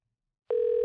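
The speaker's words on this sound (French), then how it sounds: "j'entendais la ligne téléphonique sonner" A telephone line tone starts abruptly after half a second of silence and holds as one steady, clear, moderately loud tone to the end, with no voices.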